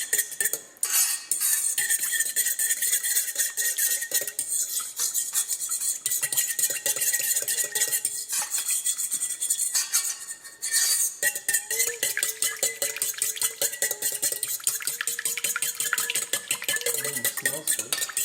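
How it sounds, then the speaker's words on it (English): Metal spoon scraping and clinking steadily against a bowl while stirring a vegan salami mixture laced with liquid smoke, a busy close rhythmic rasp with brief pauses throughout. "I'm going to mix this up."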